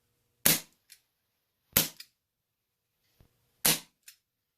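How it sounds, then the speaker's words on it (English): A CO2 air pistol fires three close, sharp cracks spaced about a second or more apart, each followed by a faint short tick, with silence between the shots. "you get the CO2, you get the bang"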